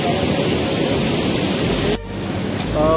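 Rushing water pours steadily at Bhivtas waterfall in Surgana, Nashik, as a loud, continuous broadband roar with a brief dip partway through.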